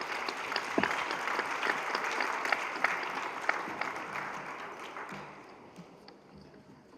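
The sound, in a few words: applause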